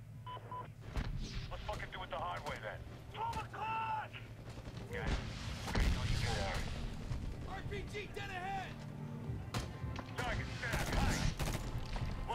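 Light machine gun fire rattles in Medal of Honor, bursts of gunshots and booms mixed with game effects, while a player talks over much of the action.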